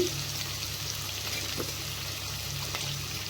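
Bitter gourd (kakarakaya) fries in a pan with a soft, steady sizzle and faint crackles, low in level with occasional light stirring clicks and no speech.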